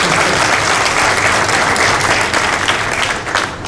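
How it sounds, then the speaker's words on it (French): A conference audience at an international dental technology congress applauds Madame Dounia with loud, dense, sustained clapping that fills the room and tapers slightly near the end. "je vous demande un grand applaudissement pour Madame Dounia"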